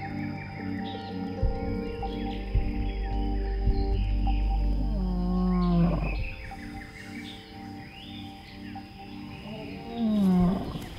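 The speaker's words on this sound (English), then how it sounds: "A lion's roar is very important to him." A lion in South Africa gives low, deep roaring grunts amid a rich wild soundscape, with birds chirping and calling throughout and a rising moan near the end.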